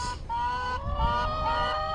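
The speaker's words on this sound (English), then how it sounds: "the actual laying hens, the current batch of laying hens. These are Barred Rock." Several Barred Rock laying hens cluck and call at once, a continuous mix of nasal, drawn-out clucks close by.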